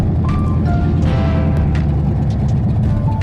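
A car engine with a new carburetor and no exhaust fitted idles loud and raw, a continuous low rumbling roar with no talking.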